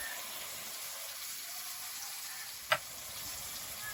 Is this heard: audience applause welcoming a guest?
no